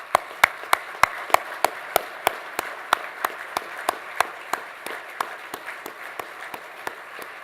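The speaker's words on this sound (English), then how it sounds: "so we can give them a round of applause" At an appreciation banquet honoring regional chairs, the applause is thin, with sharp, evenly spaced claps that sound like only one or a few people, growing quieter and slightly slower as it goes on.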